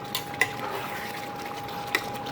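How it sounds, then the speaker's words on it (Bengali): Paneer being sautéed and stirred in a pan with chopped green chilli, giving two light utensil clinks against the pan over a soft, steady background hiss. "এবার আমি এই পনিরগুলো আস্তে আস্তে এর মধ্যে ঢেলে দিচ্ছি, দিয়ে এটাকে ভালো করে কষিয়ে নিচ্ছি।"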